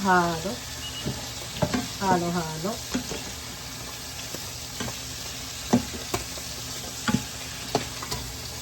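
String beans being stirred in a hot frying pan while cooking adobo, with steady sizzling and a series of scraping stir strokes, a few grouped close together, then spaced strikes; a voice briefly speaks over it.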